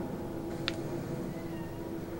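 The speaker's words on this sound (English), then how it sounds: "that was the cat" A cat meows once on the stairs, a short faint cry in the middle of a quiet room with a steady low hum behind it.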